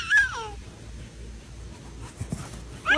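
An Australian Shepherd lets out high, wavering whimpers at the start and end, with soft panting and shuffling in between, close and moderately loud.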